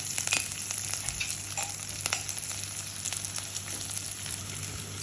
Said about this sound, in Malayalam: ചെറിയ ഉള്ളി, കറിവേപ്പില അതൊന്ന് ഇളക്കി ഉള്ളി ഒരു ബ്രൗൺ കളറിലേക്ക് എത്തിക്കണം